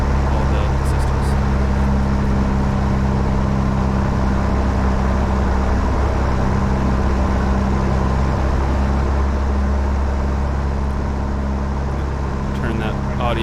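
Small propeller aircraft engine held at about 2,000 RPM during a run-up, a loud, steady droning roar heard close from inside the cabin, unchanging throughout.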